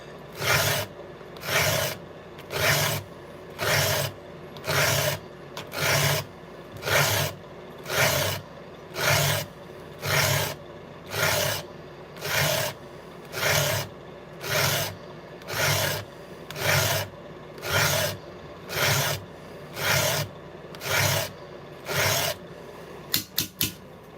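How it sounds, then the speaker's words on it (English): A file rasps across saw teeth to sharpen them, about twenty even, regular strokes in a steady rhythm, loud and close, with no talk over it. "bring it back, sharpen it again, and it'll just get better and better as you get to the square of the tooth"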